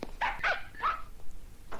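A dog barks several times in a 1980s Twilight Zone television episode, short sharp barks in quick succession at close range, with no talking over them.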